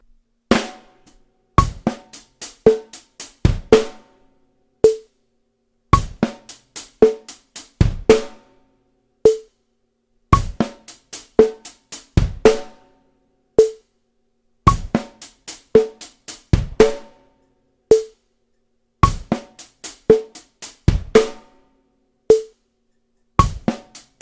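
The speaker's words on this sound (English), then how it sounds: "16th notes at 55 BPM," A drum kit plays a 32nd note shuffle groove as 16th notes at 55 BPM, with a heavy backbeat. Crisp, dry hits fall in a steady looping pattern of clustered strokes and clear gaps, heard alone and close.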